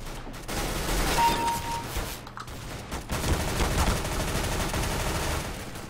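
Stock MP7 firing in a competitive shooter game, sustained rapid automatic bursts with dense cracking reports close up, a brief lull near the middle before the shooting resumes.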